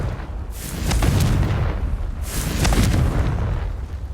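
Two booming blasts of the Confringo fire spell in Hogwarts Legacy, each a broad, rumbling explosion that swells and slowly fades, about a second and a half apart, with no voices.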